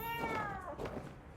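A cat meows once in the video game Monster Hunter Wilds. The cry is short, clear and slides downward.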